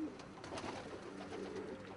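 A white clean-legged ice pigeon at home coos softly in a low, throaty, repeated rhythm, faint and fairly distant against a quiet background.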